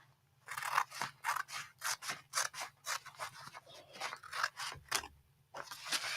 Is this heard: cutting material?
yes